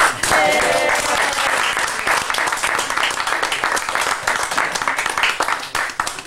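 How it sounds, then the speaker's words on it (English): Loud, dense applause from a cabaret audience at a Thanksgiving one-man show, steady and sustained from start to finish, with a voice briefly audible near the beginning. "Give her a round of applause"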